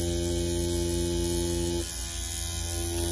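A Mummy C1 tattoo machine, a traditional-style machine fitted with modern needle cartridges, runs with a loud, steady electric buzz. Its tone shifts partway through, then it keeps humming evenly.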